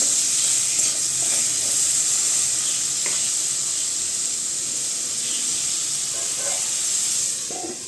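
Mixed vegetables fry together in a pan, giving a steady, continuous sizzling hiss that stays even and close throughout, with no talking.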